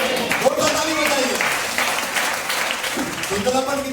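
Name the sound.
applause from the congregation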